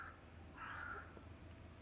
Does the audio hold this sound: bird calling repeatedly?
yes